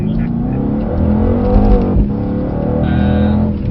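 A Mercedes C63 S accelerating at full power, its engine note rising loud and strained with a brief gear-shift dip midway, heard close and continuous.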